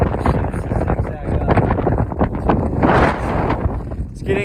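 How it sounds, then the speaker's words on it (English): Strong gusting wind on the Lahaina Pali Trail hiking path on Maui buffets the microphone with heavy, continuous roaring rumble, loud and close, while a person talks through it. "It's getting very, very windy."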